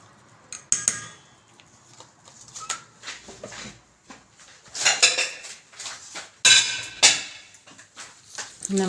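Minced meat is mixed with spices in a bowl, giving sparse clinks and scrapes of utensil against dish, with several sharper knocks in between quieter stretches.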